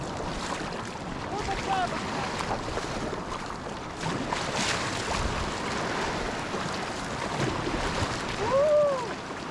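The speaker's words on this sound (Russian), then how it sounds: "Волны с пеной разбиваются о них" Waves with foam breaking against rocks on Lake Baikal heard from a kayak, a steady washing roar with surges of water and wind noise, with faint voices and a few brief squeaks.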